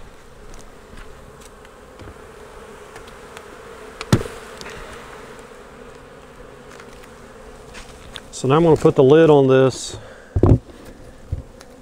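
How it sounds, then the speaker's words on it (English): Honeybees buzz in a low steady drone throughout at a hive box, with a sharp knock partway through and a person speaking briefly near the end. "I'm gonna knock those bees right in the top of that top box so we can collect them."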